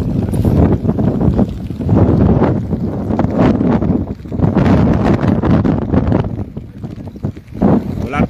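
Loud, gusting wind of a typhoon roars and buffets the microphone in heavy surges, with a voice talking intermittently beneath it, as a ship burns nearby in Navotas, Philippines.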